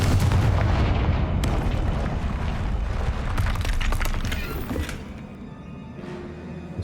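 Confringo spell blasts in the video game Hogwarts Legacy land as a few heavy, booming explosions, one after another, with the rumble fading out toward the end.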